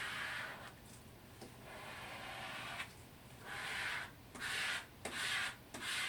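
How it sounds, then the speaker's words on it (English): A squeegee rubs across the edges of a print mounted on foamboard, making soft, faint scraping strokes that swell and fade in a broken rhythm, close up and without talk. "it's nice to use this squeegee, particularly on the edges of the print."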